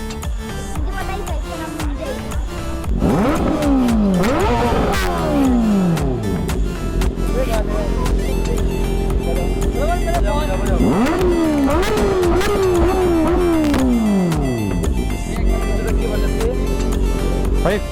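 A Kawasaki Ninja ZX-6R 600cc motorcycle engine revs hard several times, loud and close, with rising and falling whines sweeping up and dropping back, over a steady idle rumble.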